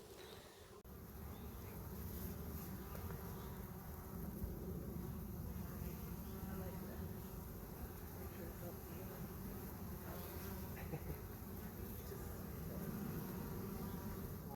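Honey bees humming around a hive in a spring apiary, a continuous, even drone of many insects at close range, steady throughout with faint background hiss and no break in the buzzing.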